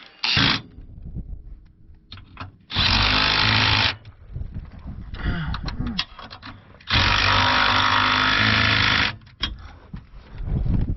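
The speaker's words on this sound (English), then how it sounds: "All I got to do is cut this off, and then I'll weld it on" Power tool cutting a part off a 1979 Trans Am during an engine swap, in loud harsh bursts lasting a second to several seconds with short gaps of clatter between them, close by.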